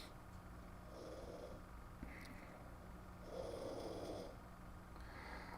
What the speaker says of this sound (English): that's dog snoring